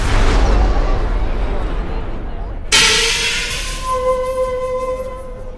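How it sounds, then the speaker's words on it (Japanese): Fireworks fired from two rafts on Lake Yamanaka in a simultaneous double launch rumble continuously, then a sharp loud burst hits midway and is followed by lingering whistling tones over the fading roar. "山中地区の花火はイカダを2つ浮かべて2弦同時打ちで打ち上げている"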